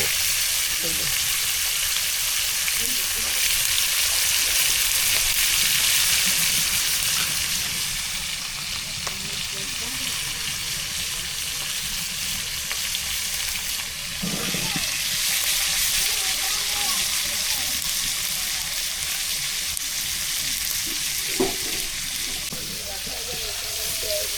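Fish frying in a pan in a village kitchen, a loud continuous sizzle with a few stirring knocks and brief voices in the background.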